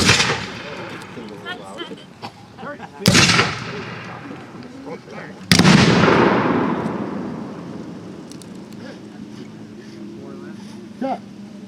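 At a historical village reenactment, loud cannon blasts boom out, three sharp reports with long rolling echoes trailing off after each, while people talk and call out around the gun.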